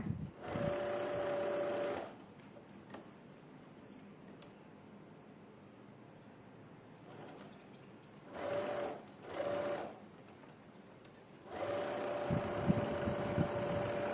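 Sewing machine stitching a gathered sleeve, running in three separate bursts: a steady hum at the start, two brief runs near the middle and a longer run at the end, with quiet handling in between.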